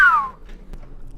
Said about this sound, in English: That seemed like a sarcastic whistle there.